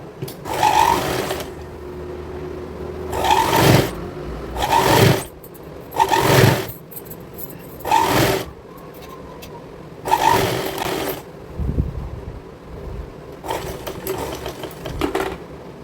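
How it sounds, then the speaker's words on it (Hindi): Sewing machine stitching the folded bottom strip of a girl's cordset, close and loud in short repeated bursts of varying length with brief pauses between them. "इसको यहाँ पे इस तरह से सिल के और अंदर की साइड पलट देंगे हम"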